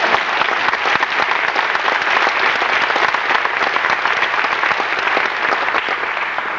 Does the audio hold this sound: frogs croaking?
no